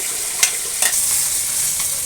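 Blended spices and mustard paste sizzle in hot oil left from frying fish, a steady bright crackle near the pan with a couple of sharp stirring scrapes, no voices.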